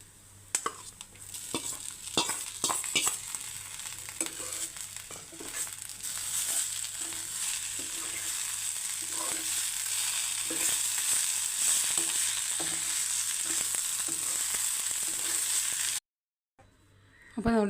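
Drumstick and lentil thoran with onion sizzles and fries in a pan, with a steady frying hiss and repeated scraping stirs and clinks of a spoon against the pan throughout.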